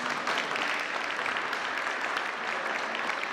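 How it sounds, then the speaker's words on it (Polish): Audience applause at a sports gala, a dense, steady wash of many hands clapping that holds evenly for a few seconds with no voices over it. "Wielkie brawa."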